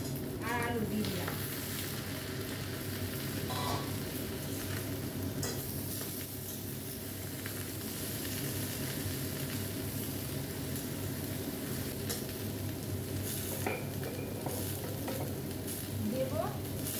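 Radish, beans and potatoes sizzle in a pan in a continuous dense hiss, with occasional faint utensil clinks and stirring scrapes throughout.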